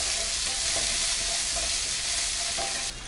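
Chopped tomatoes sauté in a pan with a loud, continuous close sizzle and hiss, faint stirring scrapes breaking through now and then.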